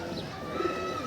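Domestic pigeons coo softly at a loft, a short, low, murmuring call heard at moderate distance against faint background noise.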